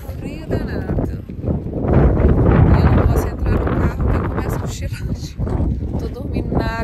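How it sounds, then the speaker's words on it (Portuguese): Strong, gusty wind at the Cabo da Roca lookout in Portugal buffets the microphone with loud, uneven rumbling blasts that surge and fade throughout, a constant roar with no calm moments. "Tá ventando muito. Se o som estiver ruim, vocês me perdoam."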